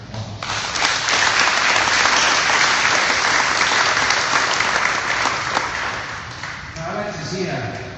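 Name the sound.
audience applause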